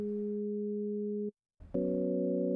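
Ableton Operator synthesizer producing a steady double sine wave tone, a pure sustained hum that drops out briefly and returns as a slightly richer, layered tone.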